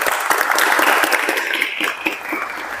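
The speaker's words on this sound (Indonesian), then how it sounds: "silakan dikasih tepuk tangan terlebih dahulu" A room of listeners claps during a lesson trial, a dense, loud burst of applause that holds steady for a couple of seconds and then thins out, with faint voices underneath.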